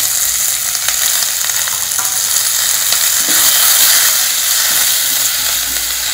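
Onions, capsicum, carrot, tomato and curry leaves stir-frying in a pan, giving a loud, continuous hissing sizzle with occasional soft stirring scrapes, close up and unbroken for the whole stretch.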